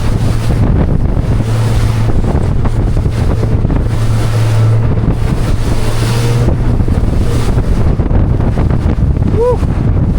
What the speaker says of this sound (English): you're just letting the hull in the boat do its thing and cut through the waves and just kind of bob up and down like these boats do